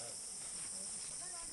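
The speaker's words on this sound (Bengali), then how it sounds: "ঝিঝি পোকার প্রচুর আওয়াজ শোনা যাচ্ছে" Crickets drone in a faint, steady high-pitched chirring in the jungle of Chitwan National Park, Nepal, continuous and distant with no clear voices.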